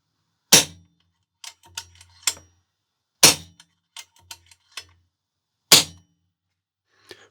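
Three rifle shots fired through a moderator converted from a muzzle brake, each a sharp, fairly subdued crack outdoors, followed by a few small metallic clicks and clanks of bolt handling between shots.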